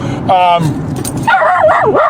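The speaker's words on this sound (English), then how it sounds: "love my dog. He's barking at the cows." From inside a car, a dog barks at cows with a couple of sharp yips, then gives a high, wavering whine, close and loud over the low hum of the car.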